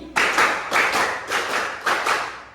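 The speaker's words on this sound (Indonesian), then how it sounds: "Tepuk 3 kali, tepuk 4 kali, tepuk 5 kali, tepuk 4 kali 2 kali." A class claps hands together in a patterned rhythm, sharp loud clap bursts in short groups with brief pauses between, close and clear, no talking.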